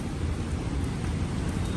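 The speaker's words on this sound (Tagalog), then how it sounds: "Ulan na ulan." Heavy rain pouring in a city street on Roosevelt, a dense, steady broadband hiss with low rumble throughout, loud and unbroken.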